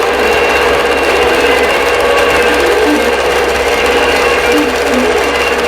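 A computerized quilting sewing machine stitching a quilt pattern, a fast steady mechanical whirring and needle rattle, close and continuous without talk.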